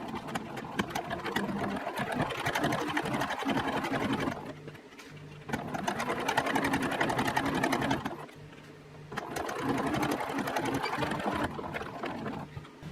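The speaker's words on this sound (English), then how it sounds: "I'm going to neatly top stitch along this edge and just secure the binding in place." A sewing machine runs in three long bursts, top stitching along the edge of a seam to hold binding in place, its steady mechanical whir loud and close with short pauses between runs.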